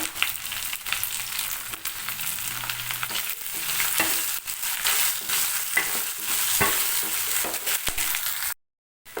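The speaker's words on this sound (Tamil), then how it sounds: "பாருங்க வெங்காயம் நல்லா வதங்குது" Lengthwise-sliced large onions sautéing in a hot pan give a dense, loud sizzle with frequent spatula stirs and scrapes, cutting off abruptly near the end, with no voices.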